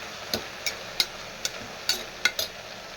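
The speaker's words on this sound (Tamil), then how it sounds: "எல்லாத்தையும் நல்லா வதக்கணும்" Tomatoes and eggplant with salt are sautéed in a pan, with about seven sharp spatula taps and scrapes against the metal at an uneven rhythm over a faint, low sizzle.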